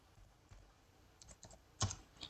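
Someone types a banner MOTD command for a Cisco switch configuration on a computer keyboard. Sparse, quiet keystrokes come in small bursts, with one louder cluster near the end.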